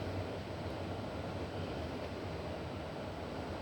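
A Seoul subway Line 7 train at Hakdong station, a steady broadband rumble and rushing noise of a moving carriage that stays even throughout. No speech is heard.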